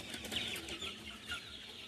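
Farm chickens about two and a half to three months old clucking faintly and intermittently, soft calls heard at a distance with low background noise.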